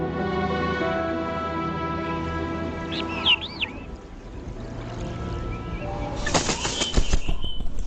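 Wings of red-throated thrushes flap in a rush of fluttering bursts toward the end, over a steady tonal background, in harsh winter on the Inner Mongolian plateau in Hexigten, near a vast lake.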